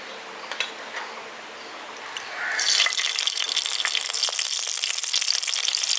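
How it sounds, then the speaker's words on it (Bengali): After a quiet start with a few small clicks, black mustard seeds drop into hot oil and a bright, close sizzle bursts up and holds steady, crackling and popping continuously. "তেলটা ভালো মতো গরম হয়ে গেছে। এবার এর মধ্যে আমি দিয়ে দিচ্ছি কালো সর্ষে"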